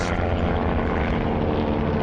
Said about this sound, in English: He looked up and saw a Japanese plane coming up the hill with its machine guns blazing fire